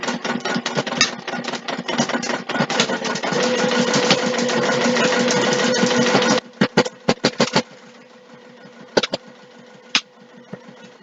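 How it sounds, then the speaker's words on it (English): A sewing machine runs in a steady fast burst for about six seconds while back stitching fabric backed with fusible fleece, then stops and restarts in short stuttering bursts and single clicks. "I am back stitching near the start and stop of each stitch"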